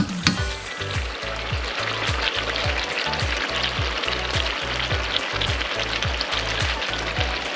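Chicken wings stir-fry in a wok with soy and oyster sauce, a loud, continuous sizzle close by, broken by rhythmic scraping knocks of a spatula tossing the pieces.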